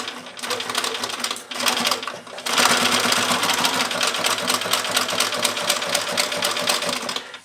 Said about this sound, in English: you're going to just sew a back stitch at the beginning and end of every seam that we sew.